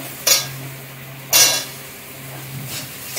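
Mango pieces are stirred into a spiced masala in a pan for a snakehead fish and mango dish, with two loud metal scrapes and clanks of a spoon against the pan over a quiet background and a fainter clink near the end.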